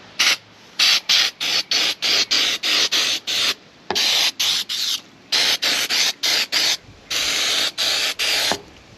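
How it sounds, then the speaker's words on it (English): Short repeated bursts of hissing paint stripper sprayed onto a motorcycle fuel tank, some quick and some longer, in an uneven rhythm, close and loud with brief silences between. "So I'm gonna spray it again."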